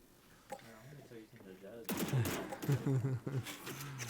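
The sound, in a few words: Judge shotgun firing in Valorant video game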